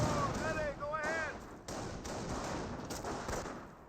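Gunfire in the Company of Heroes 1 strategy game, with machine-gun and rifle fire from a .30 cal squad and Panzer Elite infantry. Scattered thumps and sharp shots sound at mid-distance while a voice talks over the opening part.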